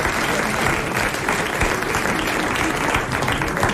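A studio audience at a 1993 French television game show applauds a winning contestant, steady dense clapping filling the whole stretch at close range without letting up.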